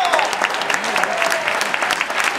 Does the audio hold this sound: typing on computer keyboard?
no